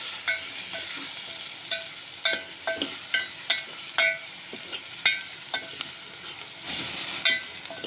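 Tomato and coriander being sautéed in a pan, with a steady sizzle broken by a dozen or so sharp clinks and scrapes of a spatula stirring at an uneven rhythm, close and moderately loud with no talk.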